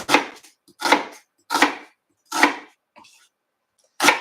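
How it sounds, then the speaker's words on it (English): Knife dicing an onion on a cutting board, five sharp chopping strokes in a steady rhythm, each a crisp, close thud with short silent gaps between. "And then we're just gonna keep dicing our onion."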